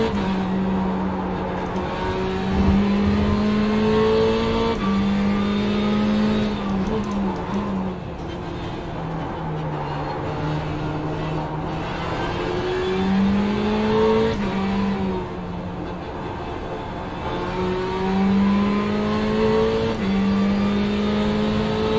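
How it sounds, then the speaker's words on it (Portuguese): Race cars roar around Spa in the Le Mans Series racing game, a sustained engine drone rising and falling through gear changes and steady revs, loud and continuous throughout with speech mixed in. "tem um carro lento na direita"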